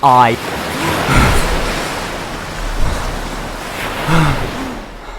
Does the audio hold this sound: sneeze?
no